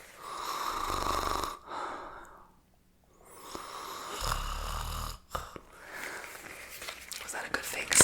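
A person imitates snoring with breathy, rasping inhales and exhales up close in a quiet room, two drawn-out snore cycles, followed by soft whispered talk.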